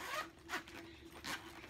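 A zipper on a FabFitFun summer box bag being pulled open in a few quick rasping strokes, close and fairly quiet, with no talk over it.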